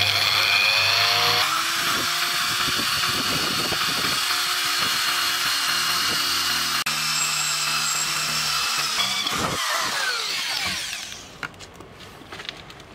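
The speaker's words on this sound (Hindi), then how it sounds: "सबसे पहले हम बीच के अंदर छेद निकाल लेते हैं ड्रिल मशीन के द्वारा।" An electric drill bores a hole through the middle of a metal earthing plate, a loud continuous whine with grinding texture for about eleven seconds before the motor winds down and stops.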